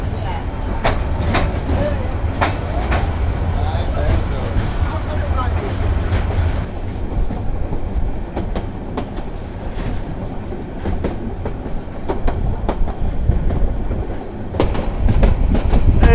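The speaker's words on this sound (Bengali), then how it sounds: "এই যে আমাদের ট্রেন" Haor Express passenger train running from Mohanganj toward Dhaka in Bangladesh: a steady, loud rumble with rhythmic clickety-clack of wheels over rail joints, heard from inside the carriage, with faint voices now and then.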